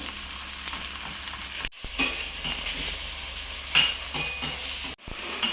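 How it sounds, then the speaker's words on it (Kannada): Chopped onions sizzle and fry in a hot pan over freshly roasted mint leaves, a steady crackling hiss with a few stirring scrapes and brief pauses, close and without talk. "ಆಮೇಲೆ ಈರುಳ್ಳಿ ಬೀಳಬೇಕು. ಫ್ರೈ ಮಾಡ್ಕೊತೀನಿ."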